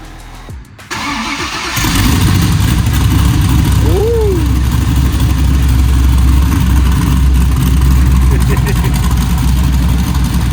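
A quad-turbo anti-lag car engine cranks and catches after a brief pause, then holds a loud, steady throbbing roar close by, with a short rising rev partway through and a brief exclamation from a voice near the start.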